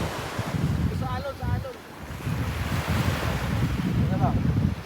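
Ocean surf rolls onto a beach with steady wind buffeting the microphone, a continuous close wash of breaking waves from start to end, with brief faint voices calling in the background.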